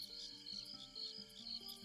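Crickets chirp in a quiet, regular pulsing rhythm under a high, steady insect drone like cicadas, soft and distant with no voices.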